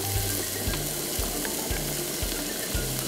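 Chinese long beans poured into a hot pan sizzle and fry steadily, with repeated low thumps of stirring or scraping under a constant hiss.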